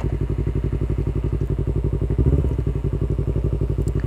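A 2019 Yamaha New R25 motorcycle idles in gear with a steady, rhythmic thumping engine pulse, close and continuous, with a slight clunk partway through.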